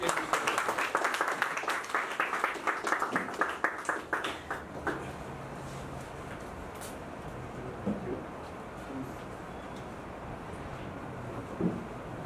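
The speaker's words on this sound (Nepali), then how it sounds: "उहाँलाई एकचोटि जोरदार ताली दिएर" An audience claps together for several seconds; the applause thins out and fades into a quiet room with faint murmuring.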